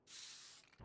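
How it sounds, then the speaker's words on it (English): A spray-paint tag sprayed in Valorant gives a short, loud hiss of under a second that fills the upper range, then cuts off. "I spray painted."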